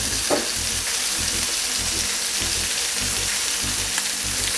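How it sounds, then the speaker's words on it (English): Bacon sizzles in a pan on a barbecue for a cheeseburger, a loud, continuous frying hiss with faint rhythmic low thumps beneath it. "Flipping your bacon over."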